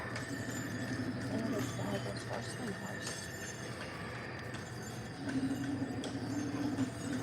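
Horse hooves clip-clop at a steady walking pace over a continuous rumbling background.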